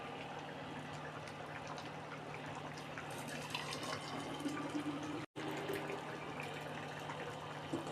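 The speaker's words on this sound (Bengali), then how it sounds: "এই জলটাও ঢেলে নিই আমার বোতলে।" Freshly boiled hot water poured into a bottle in a home kitchen, a continuous quiet gurgling stream with a brief break partway through and no talking.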